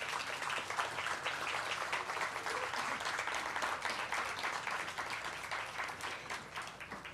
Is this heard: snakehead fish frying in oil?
no